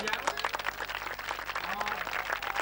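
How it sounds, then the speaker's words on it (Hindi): Dense crowd applause at an Agrawal Samaj community stage program, recorded on old VHS tape: a steady patter of many hands clapping at once, with voices talking underneath throughout. "कम से कम इनके लिए एक बार जोर से तालियां बजाओ"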